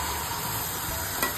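An omelette cooking in oil on a pan gives a brief, steady hiss of sizzling, close and even throughout with no speech.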